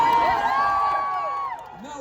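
Crowd cheering and whooping in the arena at the Black Creek Medieval Faire joust in Toronto: loud, sustained shouted voices rising and falling together for about two seconds, easing slightly near the end.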